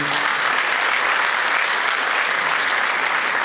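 Steady, dense applause from a crowd, a continuous clapping that holds at an even level throughout.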